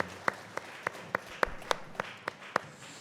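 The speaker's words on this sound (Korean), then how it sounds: "우리 하나님께 영광의 박수 올립니다." Church congregation at a Sunday service at Bangrim Church giving applause as nine sharp, evenly spaced claps over a soft room background.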